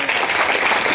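Dense applause from a crowd at a public gathering, a steady wash of many hands clapping, loud and continuous for about a second.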